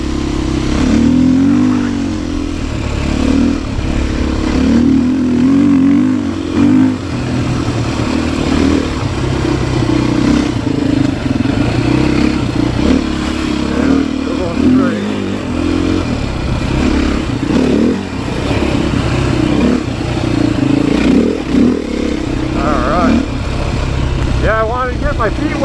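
A Beta 500 RS dirt bike rides through the woods, its engine droning loud and steady with rising and falling throttle, rumbling close throughout with clattering over rough ground.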